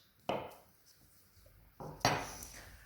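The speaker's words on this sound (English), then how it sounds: "And we're cutting it into slices." A knife cuts a soft banana into slices, giving a few soft, close taps against a board or dish, with one stroke near the start and a pair near the end and quiet pauses in between.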